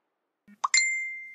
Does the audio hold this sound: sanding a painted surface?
no